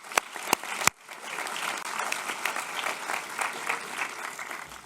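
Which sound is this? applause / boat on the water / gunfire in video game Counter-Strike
applause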